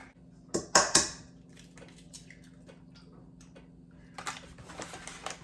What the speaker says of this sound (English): I'm gonna crack 6 large eggs into my bowl here